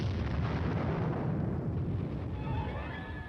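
Continuous artillery air bursts and explosions in a Cold War tank battle, heard as a heavy rumbling roar that slowly fades, with faint high tonal whines toward the end.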